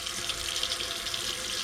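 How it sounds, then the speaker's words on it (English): Hot water runs steadily from a kitchen faucet, a continuous close hiss of flowing water with no voices. "Closest faucet, turn the hot water on"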